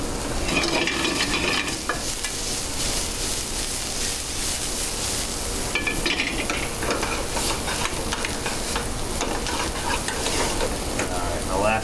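Garlic sizzling in a hot pan for honey mustard salmon, a dense continuous crackle with spoon scrapes as it is stirred, close and fairly loud with no talking.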